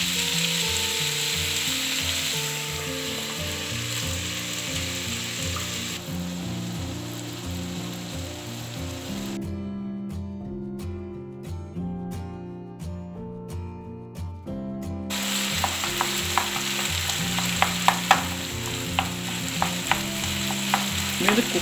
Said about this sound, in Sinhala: දැන් මේ මස් ටික තියෙනවා විනාඩි 10ක් විතර අඩු මිනිතක කුක් කරගන්න ඕනේ